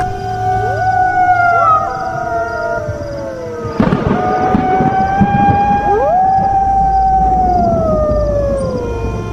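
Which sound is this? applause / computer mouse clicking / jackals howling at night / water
jackals howling at night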